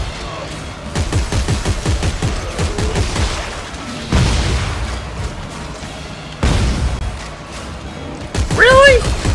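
Gun bursts from a weapon in the video game Dead Space 3 come in several separate volleys a couple of seconds apart, loud and punchy, with a player talking between and over them.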